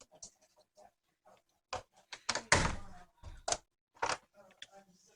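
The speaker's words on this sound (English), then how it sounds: "These doors are hard to open." Heavy doors in an abandoned former hospital, Modoc Medical Center in Alturas, California, being forced open: several scattered thunks, scrapes and one louder grinding push, close by, amid quiet room tone.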